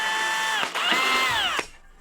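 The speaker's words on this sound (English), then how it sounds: "So as you drill, with the pulling out of the wood chips" A power drill boring a hole into wood, a loud whining bit with two short interruptions as it bites and pulls chips out, heard close and alone.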